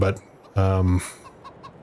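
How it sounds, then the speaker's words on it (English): Chickens in the Farming Simulator 22 game give a couple of clucks, one short and one longer, close and loud. A voice briefly talks over them. "We got some chickens with eggs."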